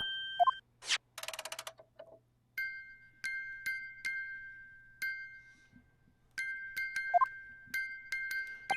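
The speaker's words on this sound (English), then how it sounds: "Just what relevance do you propose this woeful chiming has on this case?" Chiming from the courtroom video game The Great Ace Attorney: several clear, bell-like dings ring out in sequence among short electronic blips and a quick rising trill, bright and close over a low steady hum.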